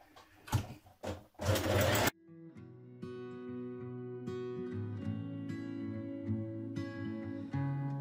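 A sewing machine stitches the shoulder seam of a blouse, a steady mechanical hum and rapid needle chatter running continuously after a few brief handling rustles at the start.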